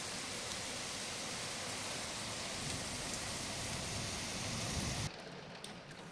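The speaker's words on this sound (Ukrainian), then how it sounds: "Шалена, пришалена злива" A dense, steady roar of heavy rain fills the clip, loud and continuous, then drops to a softer hiss near the end.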